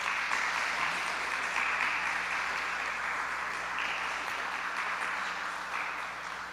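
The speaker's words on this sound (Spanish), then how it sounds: "dele una alabanza de palmas al que vive" A church congregation claps together in a sustained burst of applause, an even wash of many hands that holds steady for several seconds and fades slightly toward the end, with no voices over it.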